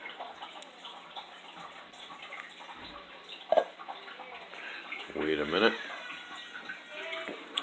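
Cold water from a fridge is poured into a metal can beside a lit candle, giving a gurgling, rising splash near the end after sparse drips and clinks, with someone speaking briefly.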